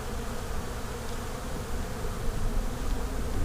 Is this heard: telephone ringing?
no